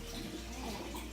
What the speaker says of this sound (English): you're going to pour your water right into the container